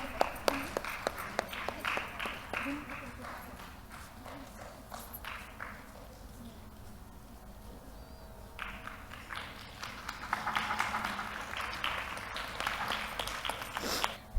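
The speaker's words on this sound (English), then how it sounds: "A bigger round of applause." An audience at an arangetram felicitation claps in a dense, continuous round of applause that fades in the middle before swelling again toward the end, fairly faint and distant.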